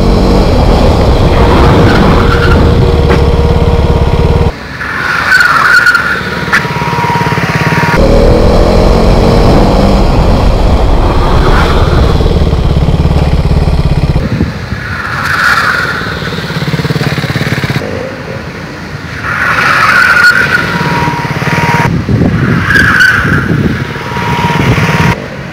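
A motorcycle engine roars loudly and continuously while the bike is ridden laid over on its side, with repeated revving surges and rough, grinding textures throughout.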